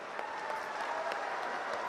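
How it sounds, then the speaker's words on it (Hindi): Applause from a political rally crowd, steady and continuous clapping spread across the whole stretch, heard from a distance without any voices over it. "बजी ना ताली?"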